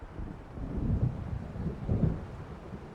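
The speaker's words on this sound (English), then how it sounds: "It seems there's a storm coming." Low rolling thunder of an approaching storm in the Alan Wake video game, a steady deep rumble that swells twice, heard alone with no voices.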